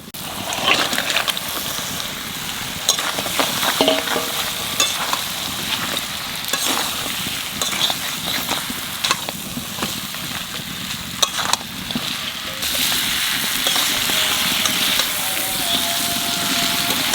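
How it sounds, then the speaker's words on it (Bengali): Large fish or prawns fry with spices in a wok, giving a loud continuous sizzle broken by frequent clattering stirs and scrapes. "এইবার মাছ কড়া দিয়ে মশলার সাথে কষাবো"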